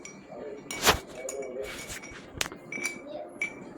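A spoon stirring a glass of sherbet mixed with soaked sabja seeds and a pinch of salt, producing several bright clinks against the glass in a loose rhythm, close up, with someone talking quietly underneath.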